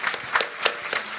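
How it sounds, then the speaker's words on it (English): Brief burst of clapping from a small group, scattered hand claps with a few louder peaks, fairly close. "So big round of applause, Mark."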